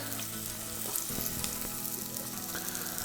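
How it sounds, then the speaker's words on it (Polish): Onions sizzle and crackle steadily in hot oil in a pot, a continuous frying hiss with small pops throughout. "Do garnka wlej olej. Świetnie sprawdzi się smalec. I wrzucamy cebulę."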